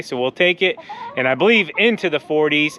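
Chickens cluck in the background on a snowy, thawing homestead while a person talks over them, their calls mixed in between the spoken words.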